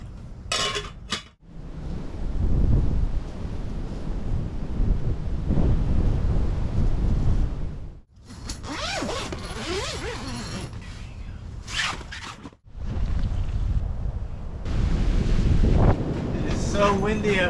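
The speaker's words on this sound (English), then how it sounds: "Windy out there." Strong winter wind buffets a nearby microphone outdoors with low, gusty rumbling that drops out briefly a few times, with occasional faint rustles and clicks.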